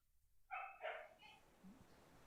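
A dog lets out two quick barks nearby, followed by a softer, lower yelp in a quiet room.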